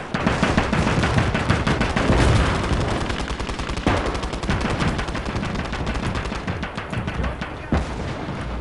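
Dense gunfire in the multiplayer war game Operation Mars, with rapid machine-gun bursts and heavy booms layered almost continuously and loud throughout.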